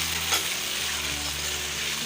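Green chili paste sizzles and fries in a hot pan, a steady close crackling hiss with a light stir or clink near the start, with no talking.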